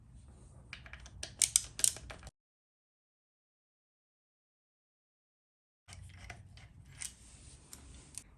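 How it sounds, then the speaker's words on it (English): Oil pump bolts on a Harley-Davidson Twin Cam 88 being loosened in a crisscross pattern: two short bursts of sharp clicking tool noise separated by a long stretch of silence. "Now we're going to loosen up the oil pump bolts in a crisscross pattern."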